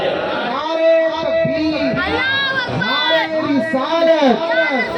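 A crowd of many voices chants religious slogans for Mola Ali together in rising and falling calls, loud and close, filling the whole stretch with a continuous, tonal roar.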